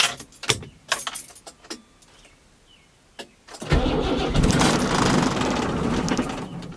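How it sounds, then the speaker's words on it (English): Cold start of a Nissan 240 with an SR engine: a few keys jangle and knocks, then the starter catches and the engine fires into a loud, steady idle close by. "Cold start."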